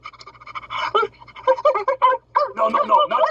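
Two puppies in a 1976 Sesame Street filmstrip yip and pant in quick, close bursts, a busy run of short excited barks and whimpers with brief pauses between.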